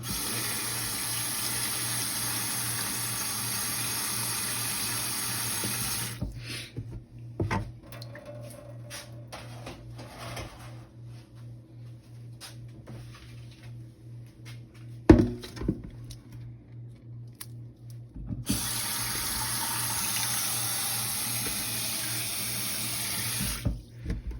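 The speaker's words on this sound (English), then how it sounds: "And then you want to put water in it," Water runs steadily from a tap into a pan of pork steak, stops for several seconds with faint clinks and handling noises, then flows again.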